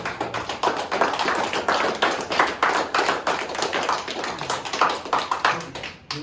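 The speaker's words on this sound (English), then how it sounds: "I'm going to give you a round of applause" A small group gives a round of applause during a teaching session, the individual claps distinct and close, rhythmic and lively, ending suddenly.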